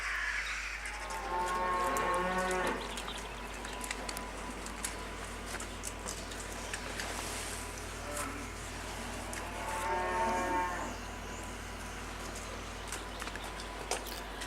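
Beef cattle moo in a farmyard around a feeder, two long drawn-out moos several seconds apart at moderate distance, with faint birdsong and a steady low hum between them.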